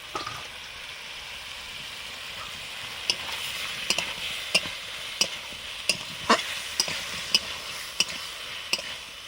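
Fried boal catfish head sizzling steadily in hot oil in a pan, with sharp stirring scrapes and clicks recurring every half second or so over the constant hiss, close and fairly loud.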